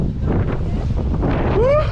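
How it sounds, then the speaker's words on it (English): Strong wind blasts across a ridge where a paraglider is being kited ahead of an incoming cold front, a close, loud buffeting rush over the microphone with a brief higher whistle near the end. "A cold front was inbound to our location, and the wind started to get stronger."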